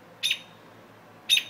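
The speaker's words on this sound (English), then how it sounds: "Look at this cocky bird." A single bird gives two short, bright chirps about a second apart, close and clear over a faint quiet background.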